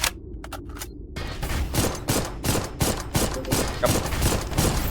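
Rapid gunfire in the video game Dolls Nest, a steady burst of repeated sharp shots with a few quick single shots before it, loud and close with no talk.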